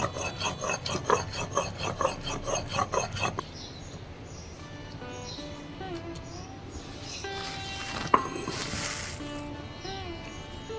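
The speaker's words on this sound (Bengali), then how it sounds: "আমি এগুলোকে মিহি পেস্ট করে বেটে নিচ্ছি খুব মিহি করে পিষে নিলাম" Poppy seed and nigella ground by hand into a fine paste, a close rhythmic rasping scrape in quick strokes for the first few seconds, then quieter rubbing and faint background sounds.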